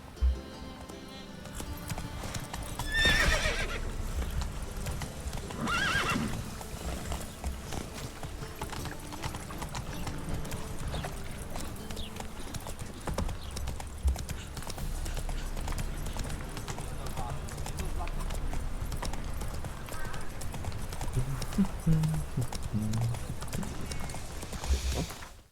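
Roach, a horse in The Witcher video game, trots with steady rhythmic clip-clop hoofbeats throughout, while a person talks over the game sounds.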